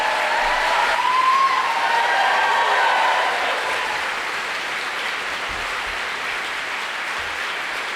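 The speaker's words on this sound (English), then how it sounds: "can I give a big round of applause for Zack Polanski?" A room full of people gives a big round of applause at a political talk in Sheffield, steady dense clapping held for the whole stretch, with a few faint cheers mixed in and no talking over it.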